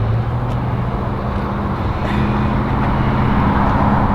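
A Promod drag race car engine runs at a steady, loud drone close by, its low rumble holding evenly throughout with no voices over it.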